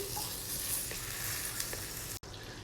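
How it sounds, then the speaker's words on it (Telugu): Butter sizzles and crackles in a pan while a white sauce for pasta is started, a steady close frying hiss with a brief stir, no talk. "నెక్స్ట్ నేను ఇక్కడ బటర్ యాడ్ చేస్తున్నానండి."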